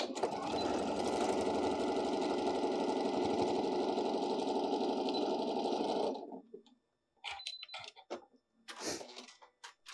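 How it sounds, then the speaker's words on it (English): A sewing machine runs steadily for about six seconds while stitching a quarter-inch seam across a fabric basket, back tacking at each side, then stops abruptly, leaving a few faint handling sounds. "stitch 1/4 inch all the way across, back tacking on both sides."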